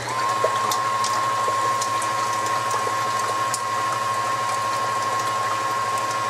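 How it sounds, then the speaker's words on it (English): An electric mixer beats eggs for big-batch brownies, a steady, close mechanical whir with a constant whine that runs evenly throughout, with no talking. "I'm going to turn my mixer on and we're going to mix these eggs"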